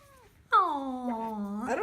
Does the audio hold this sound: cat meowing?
yes